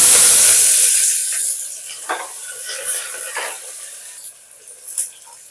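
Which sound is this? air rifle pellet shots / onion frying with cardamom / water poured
onion frying with cardamom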